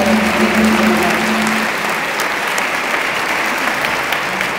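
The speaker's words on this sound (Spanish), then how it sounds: "un fuerte aplauso para ustedes." Audience applauding people from Sololá at a collective futures gathering, a dense steady round of clapping that holds evenly throughout with a faint background hum.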